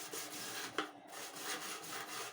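A mixer grinder gets scrubbed with a piece of wire, giving a steady close scratchy rasping with one brief sharper scrape partway through and no speech.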